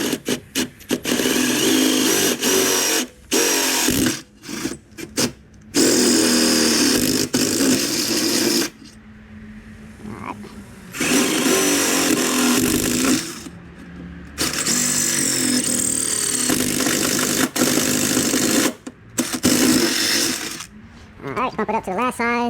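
Power drill with a 5/16 bit enlarging a hole in the strut tower of a 2021 Dodge Charger Scat Pack, loud grinding whir in several bursts separated by brief pauses, with clattering and handling noise between runs.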